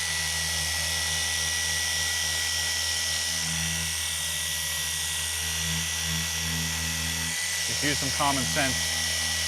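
A rotary polisher pad works over the Techno Violet paint of a BMW G80 M3 50 Jahre Edition, giving a steady, loud motor drone with a whirring tone throughout while someone talks over it.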